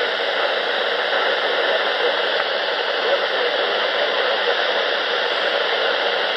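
Steady, loud hiss of static from a RadioShack 12-519 weather radio, constant and unbroken throughout with no voices.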